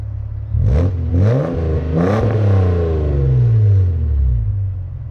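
1991 Toyota Cressida with a custom 304 stainless exhaust and Jones mufflers, revved in three quick rising blips followed by a longer pull and settle back to a deep idle, close and loud.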